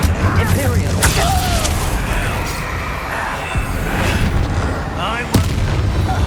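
A fiery spell burst in Hogwarts Legacy, with heavy booms and crackling combat noise over a dense game soundscape, a sharp loud hit near the end.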